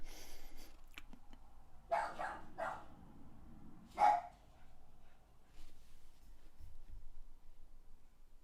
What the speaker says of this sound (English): dogs barking isn't a good look